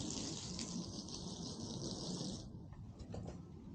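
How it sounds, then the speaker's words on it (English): Water is poured onto a car windshield treated with a ceramic glass coating, making a close, steady splashing gush that thins out toward the end, with no voices. "simply, we're gonna pour some water."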